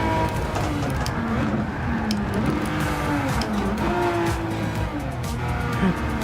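A Ferrari Testarossa racing in Gran Turismo 7, the engine revving and shifting with tire squeal and skidding through corners, loud and continuous game audio with no pause.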